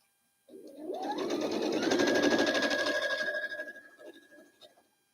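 A sewing machine stitches fabric pieces for a foundation-paper-pieced boot quilt block, running in one steady, close, fairly loud burst of about four seconds before slowing and stopping, with no talking.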